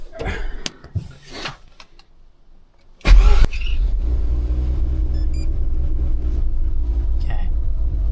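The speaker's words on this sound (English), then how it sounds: "we're going to start the car" A Mazda RX-8 rotary engine cranks and catches after a quiet stretch with faint talk, then settles into a loud, steady idle close by with a deep, even rumble.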